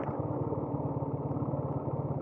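A TVS Apache RTR 180 motorcycle idles in neutral, its engine giving a steady, close, even low throb with a constant rhythmic pulse and no voices.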